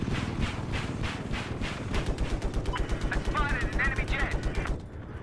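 Machine gun fire in Battlefield 4, a rapid continuous burst of shots at an even rhythm lasting about five seconds, loud and close, with voices briefly heard under it.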